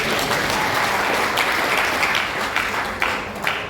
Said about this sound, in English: I would like you to clap.